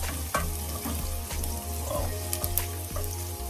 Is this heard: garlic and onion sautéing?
yes